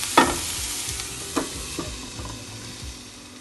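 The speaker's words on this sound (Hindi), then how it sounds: "ब्लैक पेपर एंड सॉल्ट डालने के बाद इसको बहुत अच्छी तरह मिक्स करेंगे" Cauliflower and broccoli seasoned with black pepper and salt are stirred in a pan. There is a brief loud knock at the start, then a faint sizzle with a few soft scrapes that fade toward the end, heard up close.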